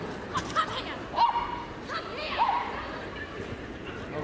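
A small Jack Russell cross poodle competing in a team agility final at Crufts yips and barks in short, high bursts over a busy arena, while a commentator talks throughout.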